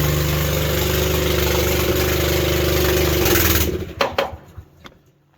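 A manlift's engine idles with a loud, steady low rumble, then cuts out near the end, leaving a few faint clunks and clicks.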